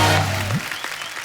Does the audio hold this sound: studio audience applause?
yes